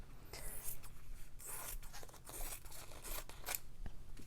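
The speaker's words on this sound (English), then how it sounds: "So now I can cut my fabric down to the maximum height that I want." Scissors snip through quilting fabric in a quick series of crisp, close cuts, with soft rustling between strokes and no talk.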